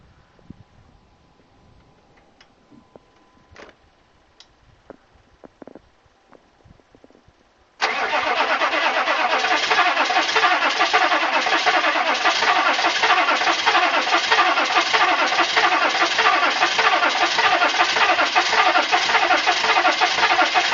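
A 1994 GMC 1500 pickup with a 6.5L diesel, fitted with new batteries after sitting for months, cold starts. A few quiet clicks come first, then the engine catches suddenly and runs at a loud, steady, rough idle close by.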